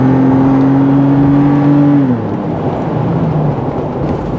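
A 2020 Toyota 4Runner TRD's exhaust holds a loud, steady high-RPM drone for about two seconds, then the pitch drops sharply as the revs fall away to a lower rumble.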